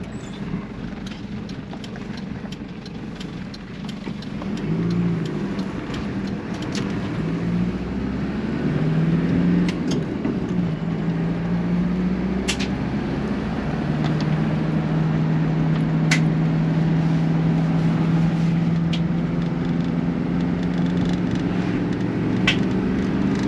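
A 1995 Toyota Hiace DX 4WD van's engine pulls steadily under acceleration from inside the cab, its low drone swelling and rising in pitch as road and wind noise build around it, with no talk.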